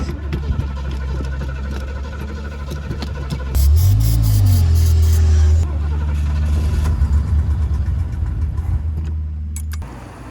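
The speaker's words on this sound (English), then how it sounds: "let's see if this rusty is gonna start with just patting the gas" An old rusty car engine cranks and catches, then revs up loudly in a rising and falling surge before settling into a rough, steady idle, with clattering handling noises at the close.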